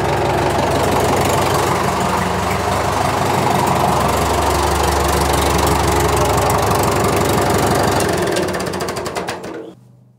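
A David Brown 990 Selectamatic tractor engine runs loud and close, a steady knocking diesel chug holding for about nine seconds before cutting off abruptly.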